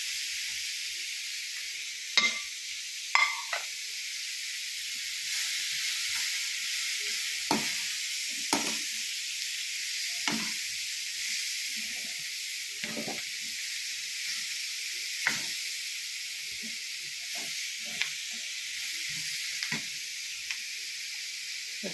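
Chilli chicken with curry leaves fries in a pan, a soft continuous sizzle with scattered clinks and scrapes of stirring at intervals.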